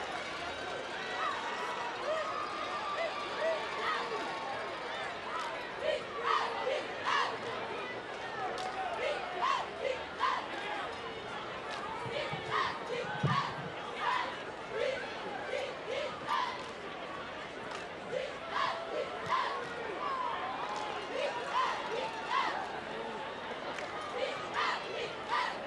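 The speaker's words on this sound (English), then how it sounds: "Crowd reacts." A high school football crowd at a state playoff game in the stands reacts in a sustained, roaring hubbub, swelling with scattered shouts and cheers across the whole stretch, loud and continuous with a busy murmur of voices.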